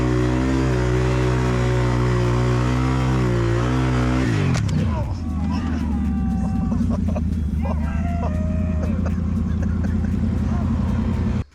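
A 2021 Can-Am Renegade 1000 XMR ATV engine idles loudly with a steady tone, then drops in pitch and rumbles on at a lower note with scattered clicks and clatter nearby.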